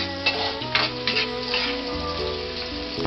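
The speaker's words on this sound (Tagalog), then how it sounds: "inuumpisa na yung pag-igisa ng bawang at sibuyas" Garlic and onion sizzle in hot oil in a pan, a loud, steady crackling hiss broken by a few sharper spatters as a utensil stirs them close by.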